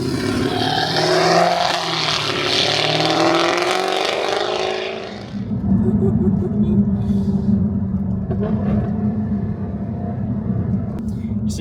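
A Jaguar F-Type in sport mode with a high-flow exhaust idles and burbles loudly, with a rough note, pops and crackles; a brighter revving whoosh fades before it settles into a low throaty rumble.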